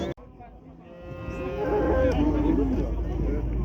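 A cow at a livestock market in Kyzylorda gives a long, rising, nasal moo, loud and close, over a low background hum of the market.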